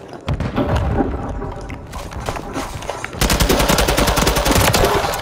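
Rapid automatic gunfire in a Call of Duty match, bursts of machine-gun shots with thumps, swelling into a dense, loud continuous volley in the second half.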